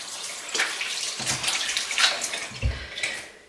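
Running tap water splashes as hands are rinsed during a makeup-removal routine with a cleansing butter, a close, fluctuating gush broken by a few louder splashes and drips.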